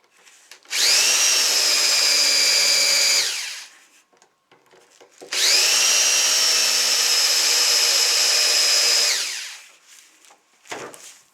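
Skil 6221 drill driving screws into a kitchen shelf, two sustained high whirring bursts of a few seconds each, separated by a pause and tapering as the motor slows, then a short clunk.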